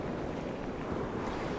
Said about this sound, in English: the sound of the sea is very calming.